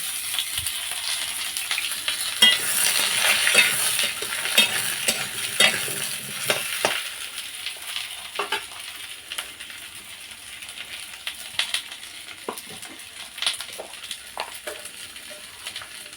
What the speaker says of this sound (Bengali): এই আলুগুলো এখন নুন হলুদ দিয়ে ভেজে নেব